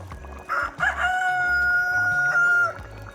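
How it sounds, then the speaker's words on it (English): Backyard rooster crowing loudly and close, one long drawn-out cock-a-doodle-doo with low clucks and rustling underneath. "Sorry about my rooster there."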